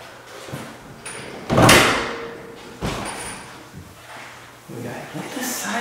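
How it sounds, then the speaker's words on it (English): Sliding door in a large, empty foreclosed mansion rolls along its track with a loud broadband whoosh and thud near the middle, followed by a softer second slide, with people talking around it. "It's a sliding door though"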